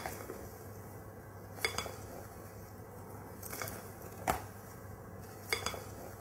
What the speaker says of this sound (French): on va incorporer le reste des blancs d'œufs tout doucement avec une spatule